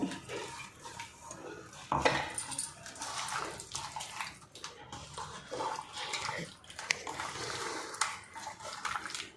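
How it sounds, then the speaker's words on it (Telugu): Masala being mixed by hand into marinated fish pieces in a village-style kitchen, with a steady run of wet squelching, stirring and clinking against a dish, fairly close throughout with no talk. "ఇప్పుడు మనం మ్యారినేట్ చేసి ఉంచుకున్న ఫిష్లో ఈ మసాలా వేసి బాగా కలుపుకోవాలి"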